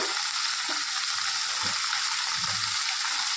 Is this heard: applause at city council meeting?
no